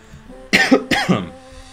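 Two quick, harsh coughs close to the mic, back to back, over a quiet background.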